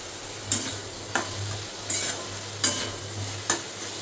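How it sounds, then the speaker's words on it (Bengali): Jackfruit and prawns stir-frying with salt and turmeric over low heat, a gentle constant sizzle broken by five sharp spatula scrapes against the pan at roughly even intervals, close up. "এটা ভাজা ভাজা হোক, আর এর মধ্যে একটু হলুদ আর একটু হালকা লবণ দেবো।"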